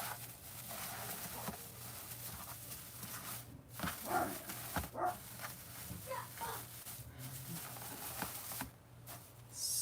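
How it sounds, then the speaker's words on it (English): A dog barks and whimpers indoors in a short, uneven series of bursts over a steady low hum, with occasional faint speech nearby. "And of course, the dog wants to start in."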